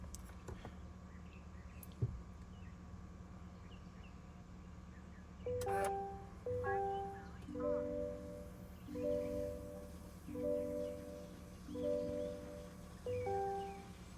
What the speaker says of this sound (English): I can hear the filter priming.